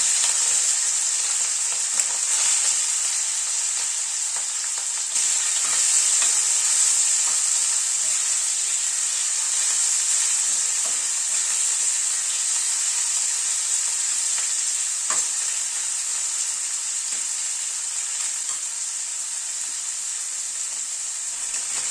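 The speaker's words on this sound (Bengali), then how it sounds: "চিংড়ি মাছটা আগে একটু হালকা করে ভেজে নিচ্ছি।" Shrimp fry in hot mustard oil in a wok, a loud, steady sizzle that carries on without a break, with faint stirring now and then.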